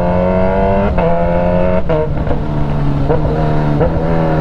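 A Kawasaki Z H2 motorcycle engine revs steadily on a mountain road, a loud continuous drone whose pitch rises and falls with throttle blips and gear changes, close to the rider with no talking.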